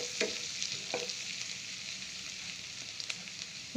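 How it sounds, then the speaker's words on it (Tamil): Garlic sautéing in a hot pan, a steady sizzle with a few sharp scraping stirs of a utensil against the pan scattered through, close and alone with no voices. "பூண்டை சேர்த்து நம்ம நல்லா கிண்டி விட்டுடலாம். பூண்டு கொஞ்சம் வதங்கட்டும்."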